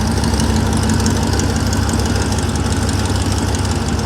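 A stock LS1 V8 idles in a 2004 car, a steady, loud, continuous rumble with a constant low drone that holds level throughout, close by and with no voices.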